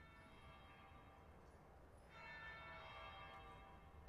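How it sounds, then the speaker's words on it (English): Church bell tolling in the fantasy game Dragon Age: Inquisition, a faint, sustained resonant ring rising partway through and holding steady, heard alone at low level. "That would be the second bell."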